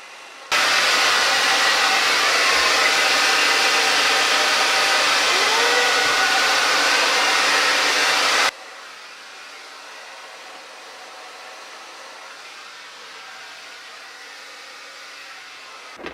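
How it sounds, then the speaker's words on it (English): A blow dryer fitted with a diffuser drying scrunched curly hair, its loud, steady airy roar running unbroken for about eight seconds before cutting off to a faint quiet background. "before I start diffusing it with my blow dryer"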